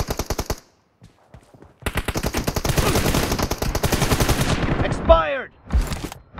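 Rapid bursts of M416 rifle fire come from a team deathmatch in the mobile game PUBG Mobile. A short volley is followed by a pause, then a long, dense sustained burst and a final quick spray, all loud and close.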